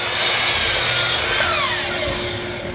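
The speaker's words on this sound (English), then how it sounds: "then we're going to cut our shelf to its final dimension" A saw cuts a wooden slab shelf to its final size with a loud, continuous whine that holds steady and eases off slightly near the end.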